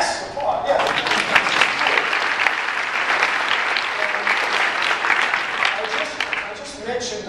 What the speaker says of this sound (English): That is just, yes, applause